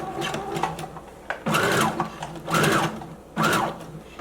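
A sewing machine stitches a skirt in three sustained whirring bursts, each lasting under a second, with short pauses and faint handling noise between runs.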